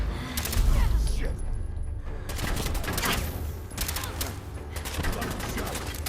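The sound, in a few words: gunfire in the video game Fallout 4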